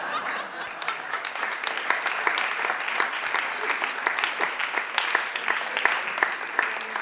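A comedy show audience applauds steadily and warmly, dense continuous clapping from a full room with a few sharper claps standing out, sustained throughout.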